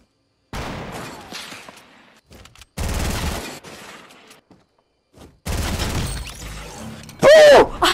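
Bursts of video game gunfire crackle in quick rapid volleys, separated by quiet gaps, with a sharp loud blast near the end; a player talks between the shots.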